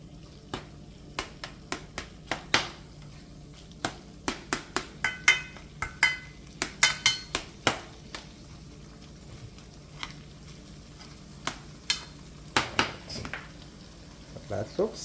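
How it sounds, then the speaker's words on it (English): Ackee and saltfish being stirred in a pot: sparse, sharp clinks and scrapes of a utensil against the pot, irregular and close, over a quiet low background hum. "We don't want to be stirring it up too much."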